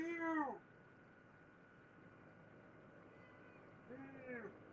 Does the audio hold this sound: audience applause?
no